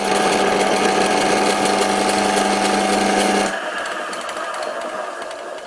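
An antique Karger lathe making a final cut, a loud continuous motor-driven whine and rumble that drops to a lower, quieter running tone partway through.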